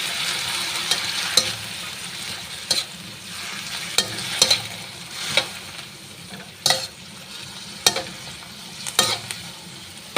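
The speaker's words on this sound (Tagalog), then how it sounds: "Tapos lalagay ko na yung gulay. Para magisa yung gulay." Vegetables are sautéed in a pan for prawn mee, giving a continuous close sizzle broken by sharp scrapes and clicks of stirring every second or so. No one speaks.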